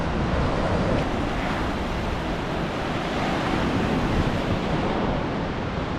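Rough sea waves at Torrevieja beach on a wild day, a loud continuous roar of surf with wind buffeting the microphone, and no talking.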